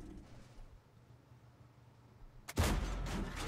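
A sudden loud, broadband boom erupts after a quiet stretch of low rumble, followed by sustained roaring noise: an E-25 tank cannon shot in World of Tanks.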